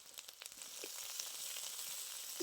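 Ginger paste hitting hot oil over already-fried onion paste, giving a steady close sizzle and crackle with small pops, no talking.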